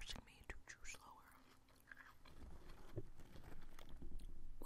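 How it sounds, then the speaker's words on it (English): Crunchy snacks, including cotton candy puffs, being chewed close to the mic with soft crunches and mouth sounds, while whispered speech runs over much of it. "What I like about this is that it's forcing me to chew slower."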